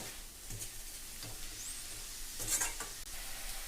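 Arai keerai greens with salt and turmeric frying quietly in a pan, a low hiss of sizzling under a few gentle stirring scrapes, with no voices.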